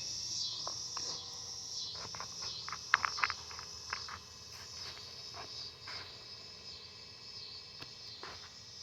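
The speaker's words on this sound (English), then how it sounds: "I hear a bunch of cicadas in the background." Steady high-pitched insect buzzing, cicadas, fills the background outdoors at night, continuous and fairly faint, with a few soft clicks and taps from nearby work mixed in.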